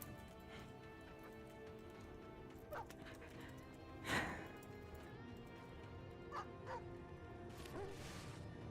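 Dogs barking in the Stormgate real-time strategy game, a few short yaps and barks scattered over steady game ambience and music, with one louder bark standing out near the middle.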